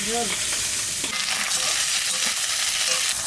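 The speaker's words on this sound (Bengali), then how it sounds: "ইলিশ মাছের মাথা ভালো করে বাজিয়ে নিছি" A hilsa fish head fries in oil in a pan, giving a loud continuous close sizzle with occasional stirring scrapes and no talking.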